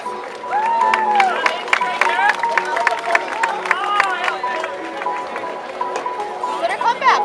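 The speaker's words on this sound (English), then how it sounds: "Give them a round of applause," Crowd applause and cheering at the 50th State Fair Rodeo, a loud sustained wash of clapping and hubbub in an arena, with voices and an announcer-style call heard over it.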